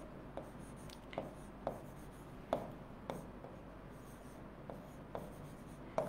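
Pen scratching out a name on paper in a classroom setting, a series of short, soft strokes and taps spaced irregularly over a steady room hum.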